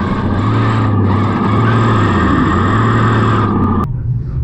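Loud whining motor and drivetrain hum of a Traxxas TRX4 RC crawler on paddle tires running over snow, steady and close for about four seconds before cutting off abruptly.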